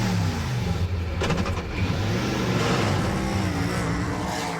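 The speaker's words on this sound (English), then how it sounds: "The engine, though, is very quiet in this. Until you turn it on." A powerful 5-litre V8 supercar engine starts and rumbles loudly and steadily, with low harmonic tones rising and falling as it revs, filling the whole stretch with no voices.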